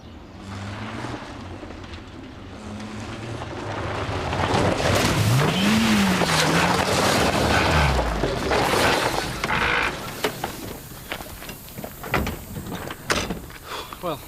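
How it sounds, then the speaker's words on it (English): A car engine revs hard and strains, a rising then falling whine over a rough roar, before sputtering out amid clunks; close and loud, with no talk over it. "Sounds like you've blown the engine."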